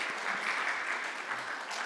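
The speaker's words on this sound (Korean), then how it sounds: "우리 박수로 환영합니다." A church congregation at a Sunday service claps steadily to welcome newcomers, a dense, even wash of many hands applauding throughout with no break.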